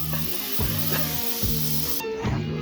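Butter hitting an extremely hot pot gives a loud, continuous broadband sizzle and spray hiss, close and steady throughout, with a low rhythmic hum beneath it.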